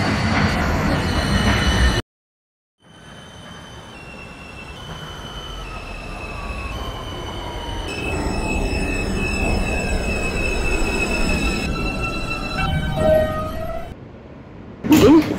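R160B Alstom subway train in the OpenBVE simulator on the E line, a loud rumbling run with a brief silent gap, rising and falling motor whine tones, wheel squeal and a short horn-like blast near the end.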